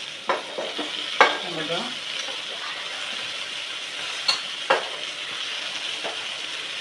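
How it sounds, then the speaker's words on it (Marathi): Vegetables for a veg masala pulao drop into a hot pan of fried spices over medium heat, giving a steady close sizzle with a few scraping stirs and knocks, with a brief word spoken. "आता आपण या भाज्या ऍड करणार आहोत."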